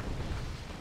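Explosion in the video game Red Alert 2 during a Soviet nuclear strike, a dense, loud rumbling blast that fills the short moment with continuous low booming noise.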